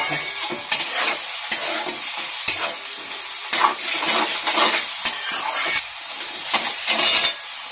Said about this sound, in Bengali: আলুগুলো হলুদ লবণ দিয়ে ভেজেছি